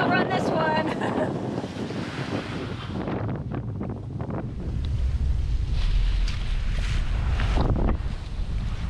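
Storm wind roaring across a sailboat at sea, with heavy gusts buffeting the microphone and waves washing against the hull, loud and continuous throughout.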